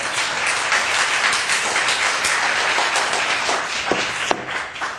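An audience in the Glendale city council chamber claps in a dense, continuous patter that thins out toward the end, with a few sharper single claps. No voices are heard.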